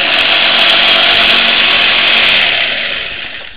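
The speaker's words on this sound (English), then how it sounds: "you can just go ahead and stick the jigsaw in there" A jigsaw cuts through the sidewall of a tire, a loud, steady, close buzzing saw whine that holds constant and then eases slightly toward the end, with no voices.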